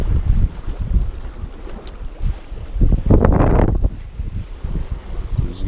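Strong wind batters a boat at sea, roaring and buffeting the microphone in uneven gusts, with a louder surge midway and no voices.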